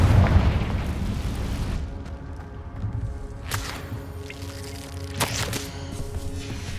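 A spell explosion in the video game Hogwarts Legacy booms at the start, followed by lower crackling rumble and a couple of sharper bursts later, with no talk over it.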